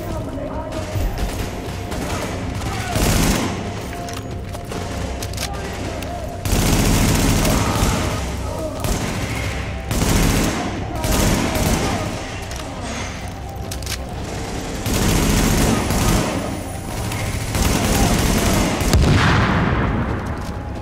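Bursts of automatic gunfire and shots ring out in a Dark Zone firefight in Tom Clancy's The Division, loud and repeated in clusters over a busy game mix, with a player occasionally talking over it.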